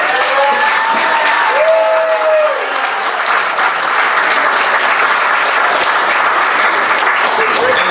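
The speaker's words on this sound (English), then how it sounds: "Can we have a round of applause?" Loud, sustained applause fills a room at a horror convention Q&A, dense clapping from a crowd holding steady throughout, with a faint whistle-like tone rising briefly near the start.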